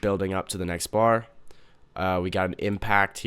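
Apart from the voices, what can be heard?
No distinct noise like a dog, phone or traffic.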